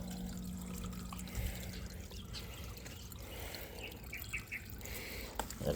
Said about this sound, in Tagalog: Tinanggal ko muna yung pressure gauge. Kaya para lumabas yung kanyang mga tubig.